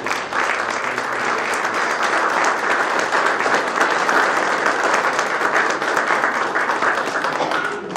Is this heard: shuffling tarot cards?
no